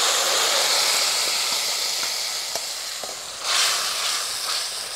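A paste of fresh cream, cashew and yogurt hits a hot pan, giving a continuous close hiss with faint pops, swelling briefly toward the end.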